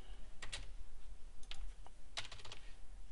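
Fingers type on a computer keyboard in three short clusters of quick, light keystrokes, close but quiet over a faint background hum.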